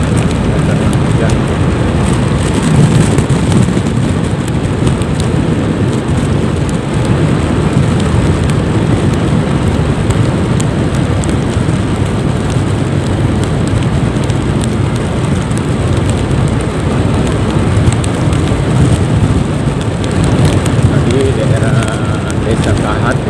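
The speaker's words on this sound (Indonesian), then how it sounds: "Ini desa Setubu ada hujan lagi di sini." Rain falls steadily and loudly throughout a daytime car drive through Setubu village on Simeulue, Aceh, a dense wash of patter with a voice talking over it.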